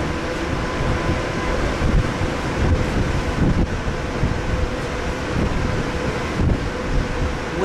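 Strong wind and choppy sea of about four to six feet, heard from the starboard bow of the Carnival Triumph cruise ship in early morning, a steady loud roar of gusts and wash without pause.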